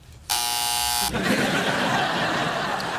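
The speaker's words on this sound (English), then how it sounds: "You're enjoying that buzzer a little too much." A loud electronic quiz-show buzzer blares once for a wrong answer, a steady harsh tone lasting under a second before fading into chatter and light laughter.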